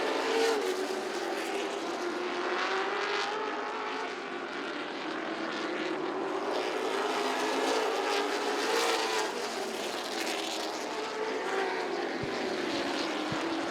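Late model race cars circling Southside Speedway in a race, a continuous loud, droning engine roar that swells and fades as the pack passes, heard without talk.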